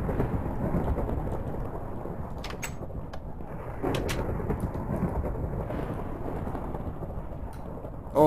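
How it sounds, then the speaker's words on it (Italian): A thunderstorm in Minecraft, played with the FTB Ultimate modpack: steady hissing rain with low rumbling thunder rolling underneath, and a few sharp crackles standing out near the middle. "Ma perché c'è sto temporale?"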